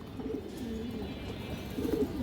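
Soft low cooing from domestic pigeons, a couple of rolling throaty calls over faint background hiss, quiet and nearby.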